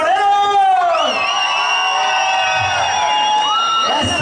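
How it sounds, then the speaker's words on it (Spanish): A loud festival crowd at the San Lorenzo fiesta in Victoria whoops and shouts in long rising and falling cries, sustained for several seconds close to the listener. "el grito de la gente de Cuautla"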